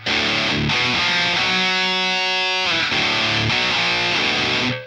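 Heavily distorted electric guitar through a Boss Katana amp, drive set around 33 on the Fat Distortion: loud sustained chords ringing out with a thick, saturated tone and brief chugging accents.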